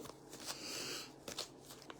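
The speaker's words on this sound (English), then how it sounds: "So I'm just going to go ahead and shuffle." Playing cards being shuffled close by at a quiet live tarot-style reading session: soft riffling and a longer rushing sweep in the middle, with light taps around it, faint and without talk.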